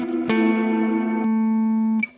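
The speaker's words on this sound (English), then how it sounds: "This one's a delay and reverb, and it has so many options and sounds" Valhalla Supermassive delay and reverb plugin on a sustained synth chord, struck at once and held loud and steady with a long bright wash, then cut off with a short reverberant tail and a faint final hit.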